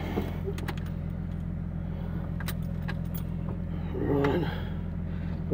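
Cummins diesel in a Timberjack 450 grapple skidder idling after a cold start at about minus 12, a steady low drone throughout with a few light metallic clicks and rattles over it.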